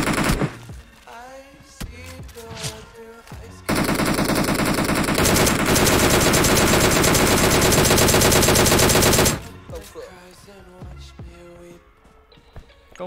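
Sustained DP-28 machine gun fire in the PUBG Mobile video game, a loud continuous burst of several seconds framed by quieter sporadic shots and game sounds before and after.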